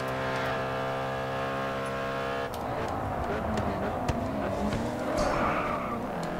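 An Audi RS5 Coupe race car in the racing game Grid 2 holds a steady high engine drone, then breaks into a rougher, shifting engine roar with tire noise and scattered impacts as it races on.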